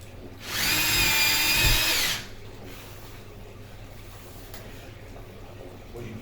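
A handheld power drill runs in one steady burst of about a second and a half, loud and close, during home DIY work, then cuts off to quiet room tone.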